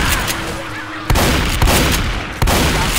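Loud gunfire from players shooting in Left 4 Dead 2 at The Parish: three sharp, heavy shots spaced about a second apart over constant rumbling background noise.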